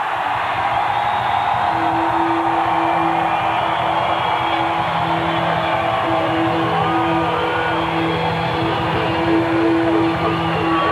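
A huge outdoor crowd of Chicago Bulls fans roars continuously at the Grant Park championship celebration, a dense steady wash of cheering with a sustained tone running underneath.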